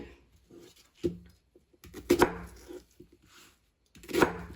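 A knife roughly dicing onion on a cutting board: sparse, uneven thunks, single chops then quick clustered cuts, close and dry with quiet gaps between.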